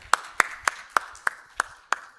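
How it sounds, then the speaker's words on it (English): Applause after a talk at a finance event is reduced to a handful of sharp, evenly spaced hand claps, about seven in a row, close and distinct with quiet between them. "Okay, big applause."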